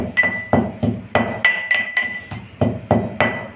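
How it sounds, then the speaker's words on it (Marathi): Roasted cumin seeds are ground by hand, giving about a dozen loud, close, evenly spaced knocks in a steady rhythm, each with a brief ringing edge. "जिरे भाजून घेतले आहे. जिरे वाटून घेणे."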